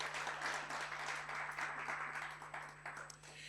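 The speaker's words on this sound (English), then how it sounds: "I actually want you to give yourself a big round of applause for showing up." Audience at the 2024 University of Johannesburg Library International Conference applauding during the welcome address, a fairly quiet, even patter of many hands clapping over a low steady electrical hum.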